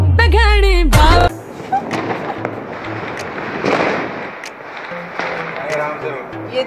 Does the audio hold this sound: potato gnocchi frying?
no